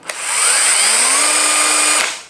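A DeWALT DCD1007 cordless hammer drill spinning up from a click to a steady high-pitched motor whine, close and loud, held for about two seconds before cutting off.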